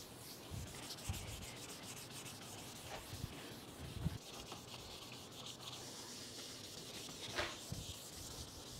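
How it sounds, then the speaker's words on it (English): A plastic headlight lens is sanded by hand with K800 grit sandpaper, making a steady, close scratchy rubbing with repeated strokes and a few louder scrapes. "Once that K800 is all sanded, then we'll go ahead and wipe them clean."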